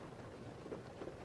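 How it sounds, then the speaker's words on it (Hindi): Heavy rain pours steadily in a dense, continuous hiss, with low rumbles of thunder rolling underneath throughout the short stretch. "देख कितनी तेज बारिश हो रही है।"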